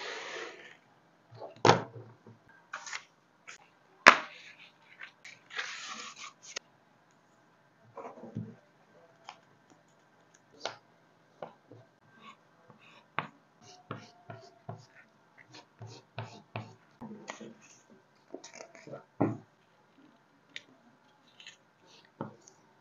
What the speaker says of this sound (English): so I'll cut the lining out like this.